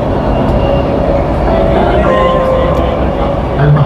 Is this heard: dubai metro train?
yes